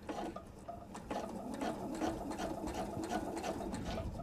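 A sewing machine top stitching a travel tote, with the fabric held taut, runs in a steady, continuous close-up whir for the whole stretch with no talk over it.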